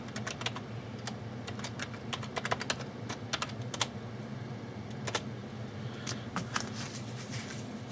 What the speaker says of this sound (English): So I'm going to go ahead and type in my password.